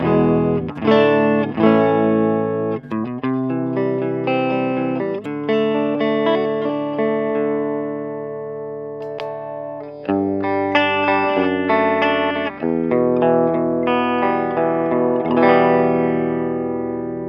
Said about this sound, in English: So today I'm playing my Fender Telecaster for some single coil tones